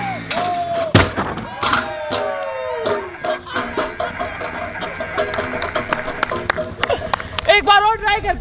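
A launched tyre strikes a sturdy wooden table with a sharp thud, followed by clattering and rolling noise as people talk and react loudly around it.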